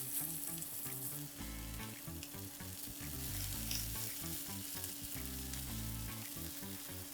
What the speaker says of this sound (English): So those are gonna sear for about 4 minutes or so on this side.